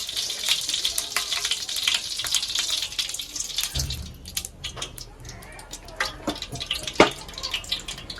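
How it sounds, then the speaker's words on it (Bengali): White cooking oil goes into a large pot of hot ghee for basanti pulao, a loud pouring hiss and sizzle that drops after a few seconds to a quieter crackle with scattered pops and clicks. "আর দিচ্ছি সাদা তেল।"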